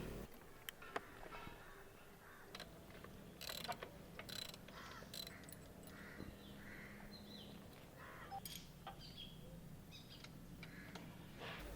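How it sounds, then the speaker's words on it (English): A motorcycle chain being tightened: faint ratcheting clicks and metallic mechanism sounds in irregular bursts, with a bird calling softly outdoors. "Chain tightening."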